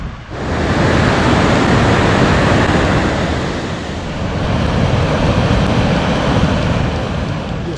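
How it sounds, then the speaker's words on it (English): The South Fork San Joaquin River rushes past on the John Muir Trail, a loud, constant broadband roar of flowing water with no pauses, close by. "This is the South Fork San Joaquin River"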